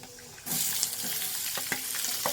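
Onion dropped into hot oil with fennel seeds for a baby potato masala curry sets off a sudden loud, steady sizzle, with a few sharp crackles and pops close by and no talk.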